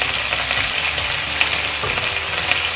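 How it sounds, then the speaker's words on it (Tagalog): Chicken pieces frying in a pan for Filipino adobo, a loud, close, continuous crackling sizzle with occasional stirring bumps, heard on its own without speech. "I want the chicken a little bit fry first"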